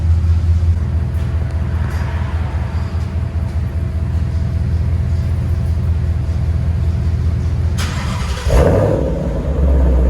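A 2020 Ford Mustang GT V8 with dual exhaust and Roush mufflers, resonator kept, rumbles deep and throaty at idle up close, then rises sharply into a loud rev near the end.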